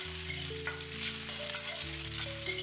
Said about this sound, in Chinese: 稍微的翻炒几下